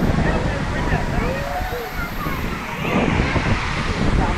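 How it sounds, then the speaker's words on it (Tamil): Steady rushing roar of an artificial Niagara Falls waterfall at the Queensland amusement park in Chennai, a broad continuous wash of falling water with a voice talking over it. "சும்மா ஒரு நிறைய குற்றால அருவியில் இருக்க மாதிரி இருக்கு பாருங்களேன்"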